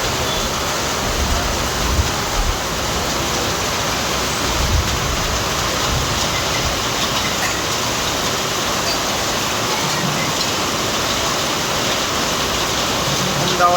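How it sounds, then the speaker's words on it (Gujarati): Heavy evening rain falls steadily in Halvad, near the Ahmedabad–Malia highway: a dense, unbroken broadband hiss of downpour that holds at an even, loud level for the whole stretch, with no distinct thunder. "સાંજના સમયે હળવદમાં જોરદાર વરસાદ પડી રહ્યો છે."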